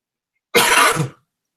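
A single short, harsh cough burst lasting about half a second, close and fairly loud, then silence.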